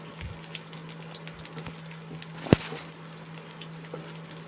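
Shallots, curry leaves and torn dried red chilli frying in a pan, a low steady sizzle with faint stirring scrapes and one sharp clack partway through.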